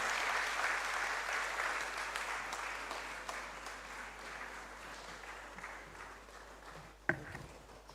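Conference audience applauding steadily and loudly for several seconds to welcome a speaker, fading gradually with one sharp tap near the end.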